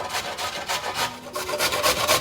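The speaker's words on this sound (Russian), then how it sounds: "Дальше 1 морковь натираю на терке." A single carrot rubbed on a hand grater while making soup, giving close, steady rasping strokes in a quick, even rhythm with no voices.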